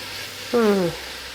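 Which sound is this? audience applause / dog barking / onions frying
onions frying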